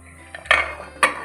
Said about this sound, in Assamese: এতিয়া এই কুকাৰৰ ঢাকনিখন বন্ধ কৰি দিছোঁ।